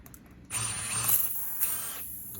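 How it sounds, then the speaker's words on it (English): Tire reamer twisted into a puncture hole in a flat tire, a close grinding, ratcheting scrape lasting under two seconds after a quiet start. "I shove my reamer down into the hole. And sometimes it takes some twisting to get that in there."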